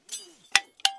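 A soldier unclips from a first mountain abseil: two sharp metallic clinks of the carabiner snapping open and shut, close and crisp, about a third of a second apart, after a faint rustle.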